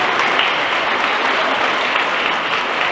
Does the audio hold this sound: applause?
yes